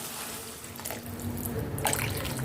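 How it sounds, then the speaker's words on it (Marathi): Water splashes and gurgles as it is poured into a hot pan of fried onion, tomato and peas, the pouring growing fuller and louder toward the end. "कांदा टोमॅटो मटार व्यवस्थित परतलं गेलं की लगेच आपल्याला पाणी घालायचं आहे"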